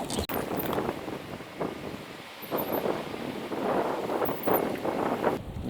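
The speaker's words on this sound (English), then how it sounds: "We're picking up a bit of the wind here." Outdoor wind buffeting the microphone, a continuous rough roar that swells and eases in gusts for several seconds.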